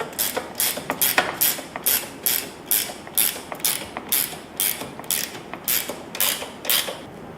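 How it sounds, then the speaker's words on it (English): Repeated ratcheting strokes tighten bolts on a Molle panel inside a Jeep Gladiator cab, a steady series of about twenty short, close creaking clicks in an even rhythm with no talk. "I'm going to go ahead and bolt these down"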